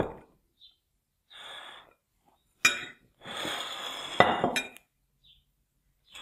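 A spoon scoops cooked millet from a dish, producing a few sharp metallic clinks against the dish mixed with brief soft scraping and short breathy sounds, close up and otherwise quiet.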